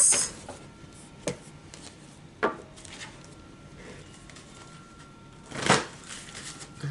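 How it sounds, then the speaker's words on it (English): Tarot energy cards being shuffled by hand, a few soft riffling and tapping bursts spaced apart, close and fairly quiet with no voices. "let's pull some energy cards"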